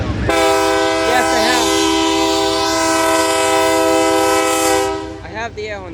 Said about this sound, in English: I have the air horn again.